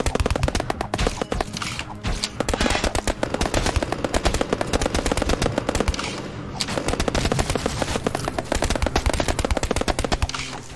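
Rapid, relentless gunfire mixed with stabbing hits from a video game, a dense continuous barrage of sharp bursts that runs the whole time with only brief dips, loud and close without any voices.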